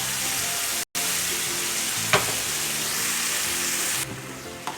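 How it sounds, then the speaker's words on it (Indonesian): Red chili sauce, loaded with chilies and thinned with a little water, fries hard in a pan for catfish, a loud, dense sizzle running continuously. A brief gap and a couple of stirring scrapes break it before it eases slightly at the end. "Kita aduk."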